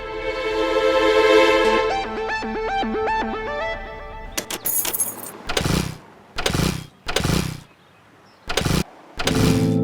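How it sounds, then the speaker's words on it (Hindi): A musical jingle plays first, then a motorcycle engine is cranked repeatedly in short bursts, each attempt sputtering and stopping without catching, separated by brief silences. "समझ में नहीं आ रहा क्यों चालू नहीं हो रही, अभी तो चल रही थी"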